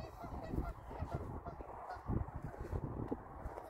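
A flock of geese honking nearby in Sweden, overlapping calls rising and falling in irregular bursts against quiet outdoor background.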